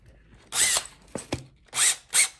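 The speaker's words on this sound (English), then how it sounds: "so that I can spin it on the end of the drill" A power drill spins a Ronstan plug fitted on its bit, revving in several short bursts, with two longer whirs and two brief ones separated by quieter pauses.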